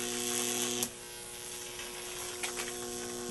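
High-voltage electric arc climbing a Jacob's ladder spark gap, giving a steady loud buzzing hum with a sharp crackle snap near the start and a few more crackles later.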